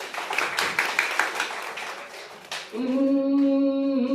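Audience members at a Hindi poetry recitation give a short burst of clapping for about two and a half seconds, after which a sustained tonal sound takes over.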